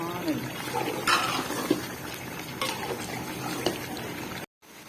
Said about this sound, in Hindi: जिस कढ़ाई में मैंने फ्राई किया था, चिकन फ्राई किया था, उसमें मैं पानी डाल रही हूँ।